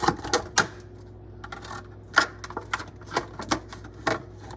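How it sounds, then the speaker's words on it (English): A cardboard box for a Jakks Pacific Super Sonic figure is cut open up close, giving a string of sharp clicks, snips and scrapes with short pauses between them. "we're gonna cut the box"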